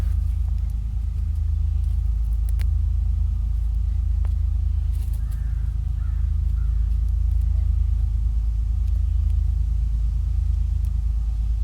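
CSX freight train with GE locomotives thundering through Sand Patch Tunnel on the steep eastern-slope climb, a heavy, steady low rumble filling the whole stretch without a break.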